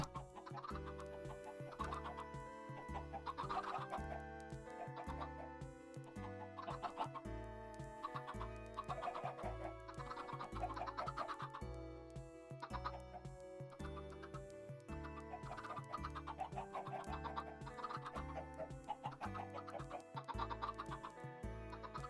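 Chickens cluck continuously inside a crowded farm pen in a video game, a dense layered chatter of many birds over a steady repeating musical background.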